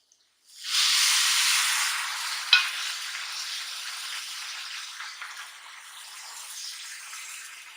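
Water poured into a pan of hot roasted semolina for vegetable upma, giving a loud, steady hiss and sizzle of steam that starts abruptly and slowly fades, with a brief sharp spatter partway through.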